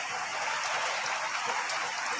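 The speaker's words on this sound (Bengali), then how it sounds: "বৃষ্টি প্রচুর, মানে বৃষ্টি পড়ছিল, এখন বৃষ্টি থামে না" Heavy rain pours steadily in a dense, even hiss of countless drops striking surfaces, with no pauses or voices over it.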